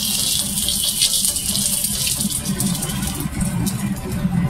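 Water pours into a hot pan of crisping dumplings, a loud continuous splashing hiss that holds for the full few seconds.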